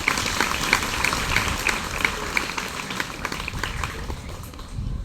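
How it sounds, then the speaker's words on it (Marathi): An audience at a spiritual gathering of the Jeevan Vidya Mission claps loudly and steadily, a dense wash of many hands that carries on for several seconds and fades slightly near the end. "आता सर्वांसाठी जोरदार टाळ्या वाजवा"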